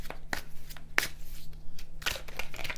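A Rider-Waite tarot deck is shuffled by hand close up, giving crisp riffling card flutters and a few sharper snaps in uneven bursts with no speech.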